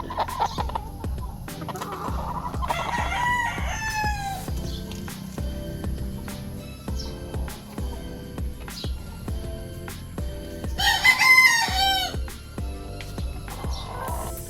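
A five-month-old Perfection Roundhead Yellow-legged Hatch cross Boston Roundhead gamecock stag clucks and gives short, rough crowing calls amid other nearby fowl and farmyard noise, with two louder bursts standing out from a busy background.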